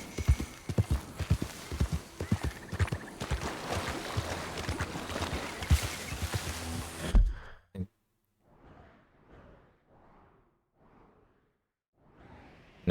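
A horse in Red Dead Redemption 2 wades through swamp water, heavy splashing hoof steps and sloshing for several seconds, then the noise cuts out to quiet soft breathy snorts and faint movement.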